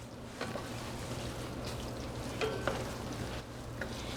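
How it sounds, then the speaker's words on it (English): Ground beef sizzles steadily in a pan as poblano peppers are added and tossed through it, with a few soft stirring scrapes rising briefly over the constant close frying hiss. "Now I'm going to go ahead and add my poblano peppers."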